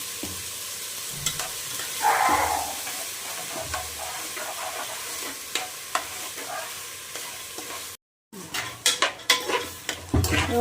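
Sprouted beans frying with turmeric in a pan, a continuous close sizzle broken by scraping stirs and light clinks of a utensil, with a brief silent gap before the stirring resumes more sharply.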